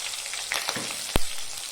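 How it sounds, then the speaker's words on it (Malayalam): Curry leaves, ginger and garlic fry in hot oil with a continuous close hiss and crackle, and a single sharp pop or clink near the end. "ഇത്രയും ഇട്ട് ഒന്ന് ചെറുതായിട്ടൊന്ന് ഇളക്കാം."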